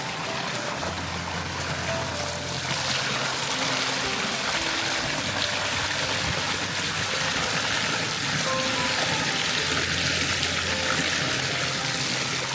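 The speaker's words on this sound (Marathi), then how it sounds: "डोक्यावर पाणी पडतं आहे" Water pours steadily onto someone's head like a small waterfall at a villa pool in Nagaon, a close, continuous rushing splash that never lets up, with no talking.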